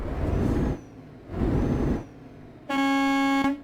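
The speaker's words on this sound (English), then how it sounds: "Ooh, that's a loud air horn." Air horn of a Renault truck in Euro Truck Simulator 2, a loud, sustained, tonal blast near the end, preceded by two broad hissing bursts.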